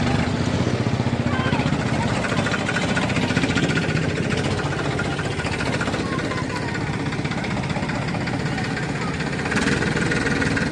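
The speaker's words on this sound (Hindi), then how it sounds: "छोटा ट्रैक्टर पड़ा घना" A small tractor strains up a steep climb while pulling a heavily loaded trailer, its engine a dense, loud, continuous roar, with people talking over it.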